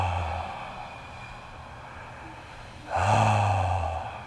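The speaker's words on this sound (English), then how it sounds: "Breathe, a yawn, deep breath." A slow, audible breath drawn in and let out, deepening into a yawn-like exhale near the end, soft and close with no talking.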